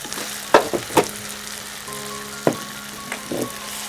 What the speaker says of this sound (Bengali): এ পর্যায়ে আমি দিয়ে দিব হচ্ছে চিকেন